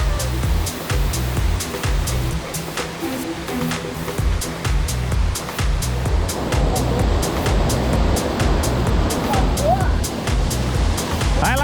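Waterfall at the Véu das Noivas falls on a forest trail in Ubatuba, São Paulo, a steady loud rushing roar of falling water heard up close throughout, with people talking and footsteps over it.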